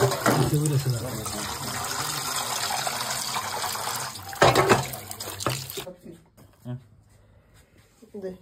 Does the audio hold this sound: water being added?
yes